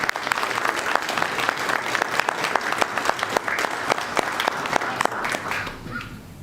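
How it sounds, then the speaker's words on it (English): A room of attendees at a city commission meeting breaks into applause, with loud, close, sharp individual claps over the crowd's steady patter, tapering off toward the end. "let's give them a big round of applause"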